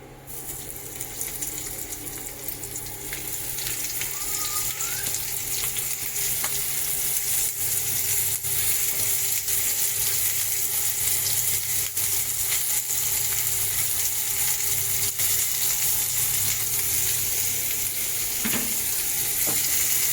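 Coated prawns sizzle steadily in oil on a tawa, a continuous close, bright hiss with faint scraping and clinks, no talking.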